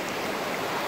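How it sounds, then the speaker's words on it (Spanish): River water rushing steadily as people wade across a wide river, a continuous close, full-bodied flowing wash with no voices. "aquí vamos luchando por cruzar el río"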